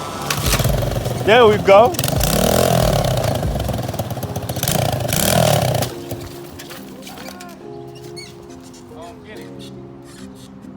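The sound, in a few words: 125cc Coolster dirt bike engine starting and running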